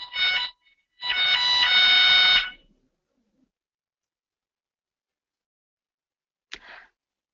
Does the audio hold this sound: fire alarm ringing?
yes